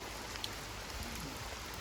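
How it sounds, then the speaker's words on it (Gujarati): Heavy rain pours down in a foggy hillside forest at Pavagadh, a dense, unbroken hiss of drops on leaves and ground, steady and enveloping, with a single sharper drop near the start and no talking. "ધુમ્મસ છે, પછી વરસાદ પડી રહ્યો છે"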